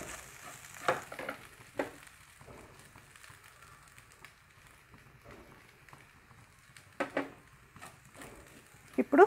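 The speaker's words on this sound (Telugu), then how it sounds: "ఇప్పుడు ముందుగా ఉడికించి పెట్టుకున్న రైస్ వేసుకుందాం బాగా కలుపుకొని" Cooked rice is stirred into brinjal fried rice in a pan: faint, low background with intermittent spatula scrapes and a few sharper clinks against the pan.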